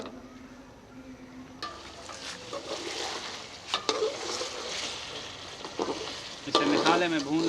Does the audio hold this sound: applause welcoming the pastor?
no